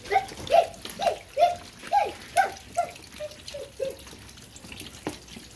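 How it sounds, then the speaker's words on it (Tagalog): Water splashes and pours in a series of rhythmic scoops as catfish fingerlings are moved into clean water at a hillside fishpond, about eight close sloshes that fade gradually. "kailangan dahan-dahanin natin isalin dito sa may linis na tubig"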